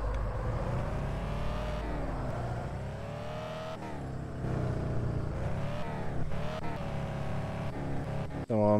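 A BMW E82 drifts in a racing video game, its engine droning steadily with shifting revs and tire-squeal-like harmonics, loud and continuous, with a brief cut near the end.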